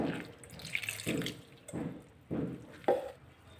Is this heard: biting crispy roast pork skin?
no